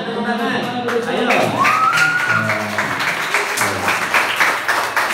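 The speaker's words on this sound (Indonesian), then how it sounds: "Ayo Tepuk tangan" Audience at a Maulid quiz grand final clapping hands, a scattered round of applause under an excited host's voice and crowd chatter.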